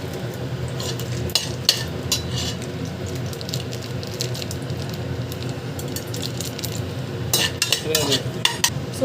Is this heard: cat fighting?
no